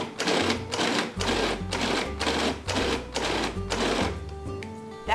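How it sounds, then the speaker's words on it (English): A food processor grinding meat in rapid pulsed bursts, about seven close, loud whirring spurts separated by short gaps. "I'm putting them in my food processor"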